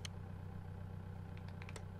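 A farm tractor idles in the video game Pure Farming 2018, a steady low mechanical rumble with faint clattery ticks and a few soft higher clicks near the end.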